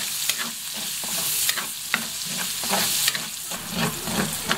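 Garlic and onion sauté for batchoy in a pan, a steady close sizzle broken by the repeated scrape and clack of stirring at an irregular rhythm.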